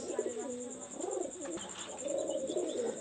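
Pakistani high flyer pigeons coo in soft, rolling phrases, several calls overlapping with a faint chirp now and then, steady and fairly close with a constant high background hiss.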